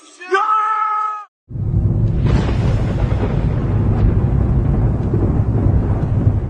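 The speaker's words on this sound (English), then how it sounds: "just the usual thunder and lightning" A brief distorted vocal burst gives way to a deep, loud rumbling roar of thunder during a thunderstorm, sustained and booming to the end.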